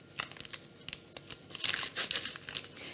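A paper packet of powdered sugar with natural vanilla crinkles and rustles as it is opened in a kitchen, in a dense run of close, crisp crackles with no talk.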